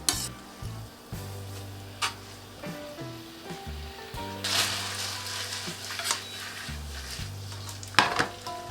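Spaghetti aglio e olio sizzles in a pan after starchy pasta water is added, with intermittent clinks and stirring scrapes over steady background music.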